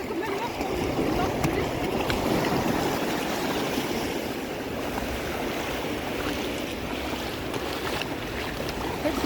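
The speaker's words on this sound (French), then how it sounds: "En fait, c'est une plage, il y a une plage." Waves wash continuously into a small beach cove, a broad steady rushing surf with no clear breaks, fairly loud and close.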